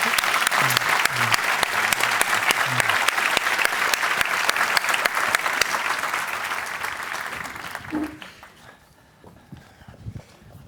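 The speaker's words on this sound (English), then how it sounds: "this panel really deserves a big applause" Audience applause follows a panel on a European hydrogen network at a hydrogen day conference: dense, loud clapping that holds steady, then thins out and fades near the end, with a few scattered claps and no talk over it.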